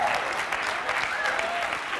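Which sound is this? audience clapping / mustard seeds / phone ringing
audience clapping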